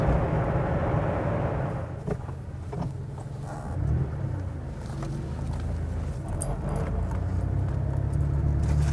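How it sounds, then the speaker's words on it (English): Keys jangle and clank faintly inside a 1989 Porsche 911 Carrera cruising in fifth gear at 60 mph, a light metallic rattle over a steady low engine and road drone that runs through the whole stretch. "the keys over here are clanking a little bit"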